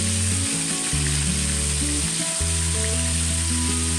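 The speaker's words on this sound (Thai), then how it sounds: "ทอดใจเย็น ๆ ทอดขาย ทอดกินกับข้าวเหนียว" Chicken frying in hot oil, Thai-style fried chicken for eating with sticky rice, sizzles steadily and loudly throughout with no talking.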